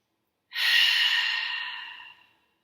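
A single long, calm breath drawn during a guided yoga relaxation, smooth and close, swelling quickly then fading slowly over about two seconds, alone in a quiet room.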